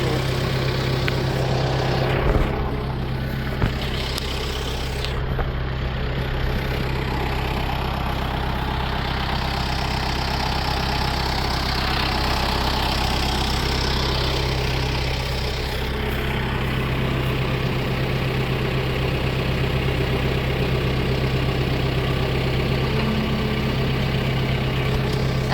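A Kubota tractor's engine idles steadily and loudly throughout while the tractor backs up, a constant low rumble with no talking.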